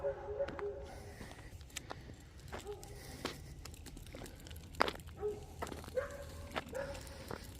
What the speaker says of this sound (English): Kitty's alert because of those dogs barking.